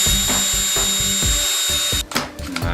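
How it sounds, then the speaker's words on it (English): A power drill whirs in steady bursts as it spins and twists two cables clamped at one end in a vise, the motor pulsing rhythmically close by before winding down near the end. "They put one end in a drill and they put the other end in a vise, and they let the drill rip and it twists the 2 cables"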